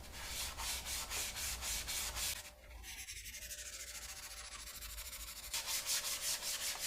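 Sandpaper or Scotch-Brite rubs rhythmically across a Honda CB750 motorcycle side cover, steady close back-and-forth scratching strokes that soften briefly midway before picking up again.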